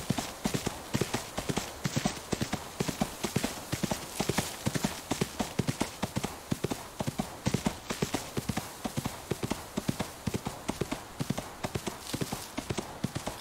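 Steady clip-clop of horse hooves in the video game Ostwind, a quick even rhythm of close, crisp hoofbeats throughout, with no talking.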